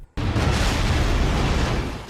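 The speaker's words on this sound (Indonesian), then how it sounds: "ledakan dari pemandu roh level 9 ini pun sangat dahsyat hingga menghancurkan pelindung yang dipasang tadi" A massive animated explosion from a level 9 soul guide, a sudden onset into a sustained, roaring, rumbling blast that stays loud and dense throughout.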